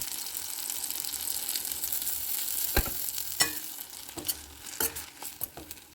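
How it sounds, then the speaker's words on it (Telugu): Green chillies stir-fried in a pan, a continuous sizzle broken by several sharp utensil scrapes and taps against the pan, growing busier toward the end. "అన్నీ ఈవెన్గా వేగే వరకు ఇలా కలుపుతూ ఉండాలి."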